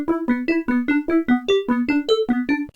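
A vintage Synclavier synthesizer plays a simple melody of about a dozen short, evenly spaced plucked tones with a bright, buzzy harmonic timbre, moving between a few pitches, clear and close with no talk.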